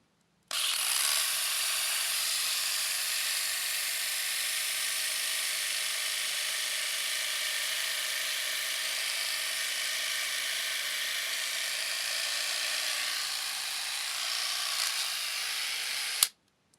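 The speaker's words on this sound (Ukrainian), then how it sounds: "давайте подивимося, як працює, наприклад, тример" An Alfasonic AS-1072 cordless electric shaver's trimmer hums in a steady high-pitched buzz for about sixteen seconds. It is close and even throughout, with a click as it switches off and no talking.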